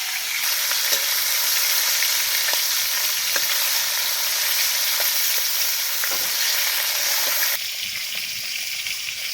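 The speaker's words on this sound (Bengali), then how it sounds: "মাছগুলো একটু উল্টে দিচ্ছি" Pieces of shol fish fry in hot oil, a loud, dense, continuous sizzle with occasional clicks as they are flipped in the pan, dropping slightly quieter near the end.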